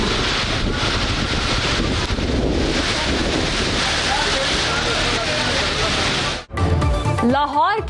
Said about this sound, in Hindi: ज़ियारत और कल्लात में तेज बारिश